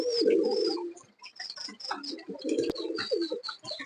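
High-quality pet pigeons coo softly and repeatedly nearby, with low throaty calls overlapping light chirps in a quiet setting.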